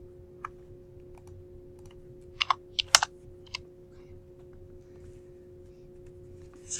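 A handful of isolated keystrokes on a computer keyboard, sharp clicks clustered in a short burst amid a quiet room hum, with long silent gaps before and after.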